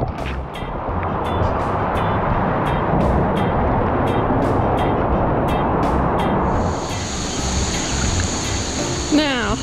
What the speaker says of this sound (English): This waterfall coming up here tells me that we are going into the